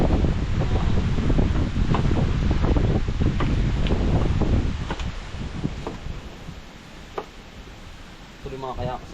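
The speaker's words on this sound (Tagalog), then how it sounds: "sobrang lakas ang hangin talaga" Strong, cold wind buffets the microphone in loud, rushing gusts at an outdoor spot where sinigang is being cooked, easing off after a few seconds, with clattering and brief voices in the background.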